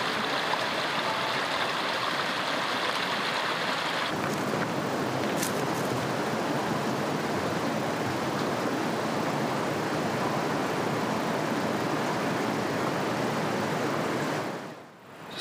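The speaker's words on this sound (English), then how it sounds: "It's the first sight of Elbert Creek." Steady rushing water of Elbert Creek in a forest, broadband and constant, close by and loud, with no voices, fading briefly at the very end.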